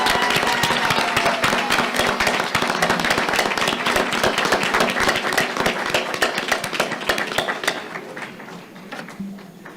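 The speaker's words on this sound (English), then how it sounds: "Let's share in a round of applause for this month's appointee." Loud, steady applause fills a room at a monthly school board meeting. It goes on for several seconds with no break and then thins out toward the close.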